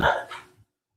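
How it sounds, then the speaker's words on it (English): A dog gives a single loud, close bark indoors, short and sharp, apparently directed at kittens outside, then silence. "what are you barking at?"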